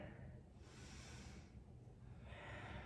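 A slow audible inhale through the nose during a yoga flow, a soft breathy hiss swelling and fading, faint and close over a low background hum.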